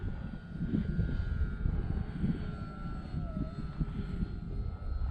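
Small E-flite T-28 electric RC model airplane flying outdoors on a light breeze, a steady continuous motor and propeller drone heard from a distance over wind rumble, with a faint pitch sweep as it passes.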